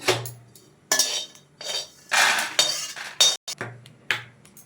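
Cashew nuts dry roasting in a pan: a spoon scrapes and clinks against the metal in short, irregular bursts, close and fairly quiet, with no talking.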